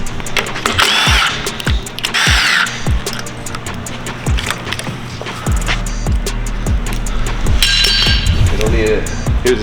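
Power tools cut and break apart parts of an imported Japanese-market Honda K24 engine, giving repeated sharp clanks and impacts with intermittent whirring bursts, close and loud throughout.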